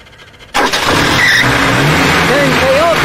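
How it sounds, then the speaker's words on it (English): A Suzuki car engine cranks and catches after a short quiet moment, then runs loud and steady with rising revs, while people talk nearby. "And start car?"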